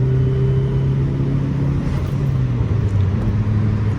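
A turbocharged Dodge SRT-4 Neon under a pull at about three-quarter throttle and around 12 psi of boost. Its engine and exhaust give a loud, close, continuous drone whose pitch holds steady and shifts slightly toward the end.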